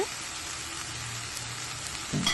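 Broad beans poriyal stir-fries in a pan with a soft, steady sizzle, ending in a brief scrape of stirring near the close.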